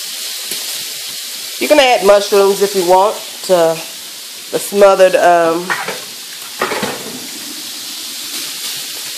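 Onions frying in hot grease in a pan, a steady close sizzle running the whole time beneath someone talking.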